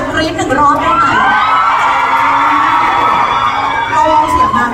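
Fans screaming at a LUX Bright Bluebell brand event in Thailand, a loud sustained high-pitched crowd shriek lasting throughout, with voices mixed in.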